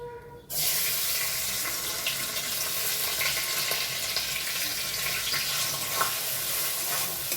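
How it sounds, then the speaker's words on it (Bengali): Rice with garam masala hits hot ghee and refined oil in a wok and breaks into a sudden loud, steady sizzle that continues close and unbroken. "মাখা চালটা দিয়ে ভালো করে ভেজে নিতে হবে"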